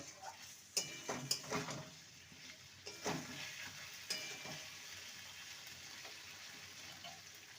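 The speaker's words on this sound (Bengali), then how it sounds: "এবার ভেজে রাখা আলু আর এঁচড়ের টুকরোগুলো দিয়ে দেবো ভালো করে কষিয়ে নেব মশলার সাথে" Fried jackfruit and potato pieces are tossed into spice masala, giving a soft sizzle with sharp clicks of a spoon stirring against the pan, quiet and close.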